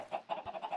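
Chickens clucking in the video game Minecraft, a few short, soft clucks in a steady pulsing rhythm, close and fairly quiet, with no talk.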